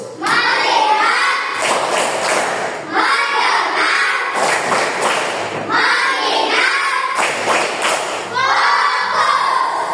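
An elementary classroom of students claps in rhythmic bursts at the teacher's lead, loud clustered claps repeating in several rounds separated by short pauses, with children's voices mixed in.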